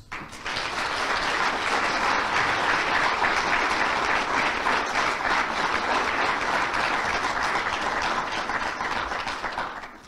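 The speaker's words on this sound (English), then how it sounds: "give him a big round of applause" Sustained applause from a large crowd, a dense, steady roar of clapping that swells quickly and holds for about ten seconds.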